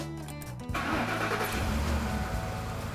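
A car engine with cam phasers cranks briefly, then catches and roars to life, settling into a steady, loud idle with no diesel-like clacking and no talking.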